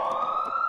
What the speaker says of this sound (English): And the siren continues for another few minutes